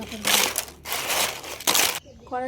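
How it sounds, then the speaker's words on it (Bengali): Crisp, homemade sun-dried papad crackles and crunches as it is handled, in three bursts of dry crinkling rustle, close and fairly loud, with brief talk alongside. "পাঁপড়গুলো কত সুন্দর শুকিয়েছে দেখো কর্মর করছে"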